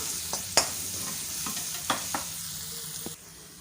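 Ginger garlic paste sautés in a pan, a soft, steady sizzle with a few sharp clinks of a spoon stirring, quiet and close, no voices.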